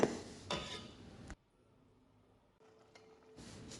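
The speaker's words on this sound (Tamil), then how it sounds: "போட்டு நல்லா அடியோடு கிளறி விட்டுருங்க" Metal utensil scrapes and clinks against a heavy pot of Tirunelveli sundakari curry in a few bursts, with quiet pauses between the stirring strokes.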